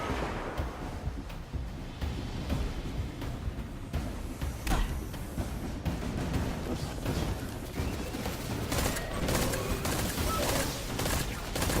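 Pulse rifle gunfire in Destiny 2 on Mercury, dense overlapping bursts and impacts amid a busy, chaotic battle din that stays loud throughout.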